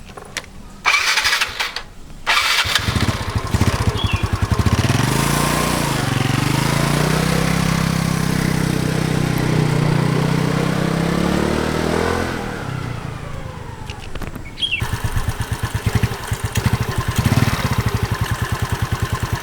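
Yamaha Mio scooter with an upgraded CVT, engine starting after a couple of short attempts, then running in a loud, close, steady drone with rising and falling revs before it settles into a rougher idle.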